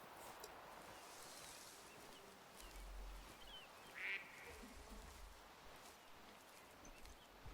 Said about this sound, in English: Now, we got some wild ducks flying around the area.